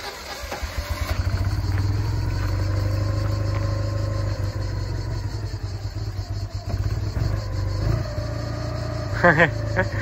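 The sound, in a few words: 1974 Méhari car engine being started with the key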